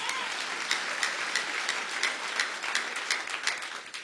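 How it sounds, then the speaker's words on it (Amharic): A church congregation claps together in steady, rhythmic beats, a dense wash of hands filling the room with regular accents throughout. "እስቲ አጨብጭቡ ለጌታ።"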